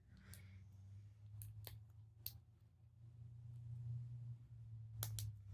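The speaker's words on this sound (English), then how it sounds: "You can hear everything clicking together, all nice and tight." Wooden pieces of a book nook kit click together in a few sharp, quiet snaps, a scattered group early on and a quick double click near the end, over a low steady hum.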